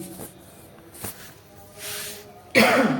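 A couple of short, rough coughs, with a louder burst near the end, over a faint background hum.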